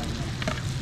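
Garlic sautés in a pan for pancit at a catered birthday, a short steady sizzle and crackle of frying close by, with no talking.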